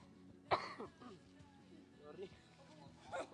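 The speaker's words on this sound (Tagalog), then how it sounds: "Ubong-ubo." A single sharp cough breaks through, followed by quiet murmuring and a soft laugh, with another brief cough-like burst near the end.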